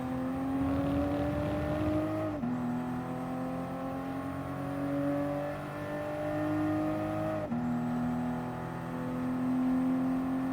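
Race car engines in Gran Turismo Sport, Toyota Supra cup racing at Fuji: a loud sustained engine drone holding steady pitch, with two abrupt gear-shift drops around two and seven seconds, then climbing again over a long straight, no talk.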